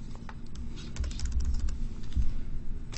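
Quick clicking keystrokes on a computer keyboard as an IP address is entered, a close, uneven patter of taps over faint background hum.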